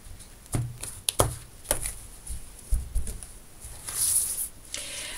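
A tarot card deck is cut and handled close up, producing a few soft taps and shuffling rustles with a brief brighter flutter near the end, and no speech.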